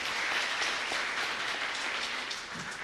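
A church congregation at an anniversary thanksgiving service claps in congratulation for an engaged couple, a full, steady patter of many hands at constant loudness throughout.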